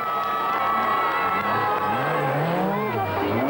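A crowd cheers and shouts as a Lancia rally car passes at the 1986 Sanremo Rally, the engine revving and sweeping by close and loud beneath the roar, with a commentator talking over it.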